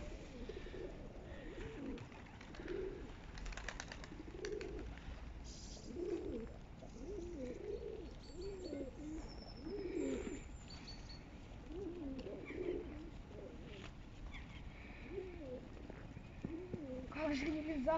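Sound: pigeons cooing while being fed bread

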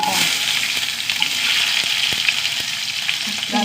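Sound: mustard seeds, dried red chillies, curry leaves frying in oil

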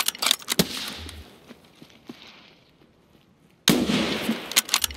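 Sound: gunfire in video game Escape From Tarkov

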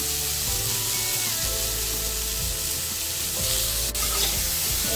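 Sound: lightly frying cut potatoes with salt and turmeric

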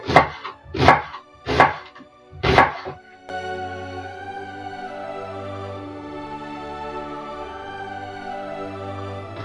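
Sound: knife slicing onion into rings

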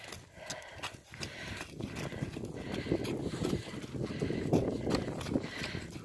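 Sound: horse cantering

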